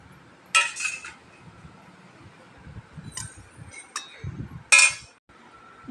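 A spoon clinking against a lunch box while sesame podi rice is stirred in, with a few sharp metallic taps between softer scraping, close and clear.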